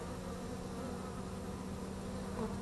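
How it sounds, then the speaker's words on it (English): A dense, continuous buzzing of many honeybees close by at a tall hive, a steady droning hum with no voices. "these bees are really friendly"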